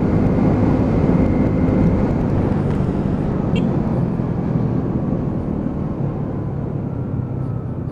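A Lexmoto Riot 125cc motorcycle pulls hard while being ridden, its engine a loud, dense, steady roar mixed with heavy wind rush. A rider's voice is buried under the noise.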